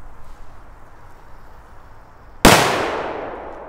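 A small 0.2 g Big Bang firecracker goes off on the ground with one sharp, loud bang and a brief decaying echo, after a few seconds of quiet outdoor background.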